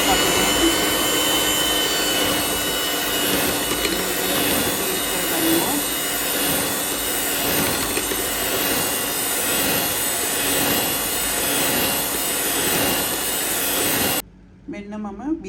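An electric mixer whirs steadily at high speed, beating a freshly cracked egg into butter cream for butter cookies, a continuous loud drone that cuts off abruptly near the end.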